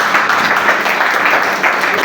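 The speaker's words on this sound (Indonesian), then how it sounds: "Yuk, beri aplaus." Classroom applause rings out for a student group presenting on Hindu-Buddhist kingdoms in Indonesia, a dense steady patter of many hands clapping throughout, close and loud with no talk over it.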